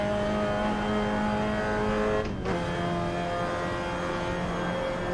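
A historic race car at Spa in Assetto Corsa holds a loud, steady engine drone, with a brief dip around a gear change before the tone settles back in, and no talking over it.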